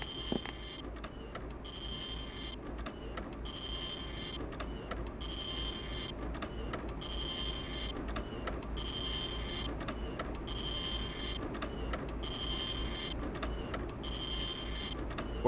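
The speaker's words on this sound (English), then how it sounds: "Where is that printer noise coming from?" Printer-like mechanical noise in the horror game Clock Tower: The First Fear, a rhythmic whirring and clacking pattern repeating roughly every second, steady and fairly loud throughout.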